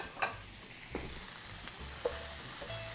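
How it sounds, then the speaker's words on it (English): Ground meat for South African bobotie browns in a pan with a low, steady sizzle, while a spoon breaks it up with occasional soft scrapes and taps, close by and unaccompanied by speech. "And we'll cook the meat till it's getting a little bit brown, every piece."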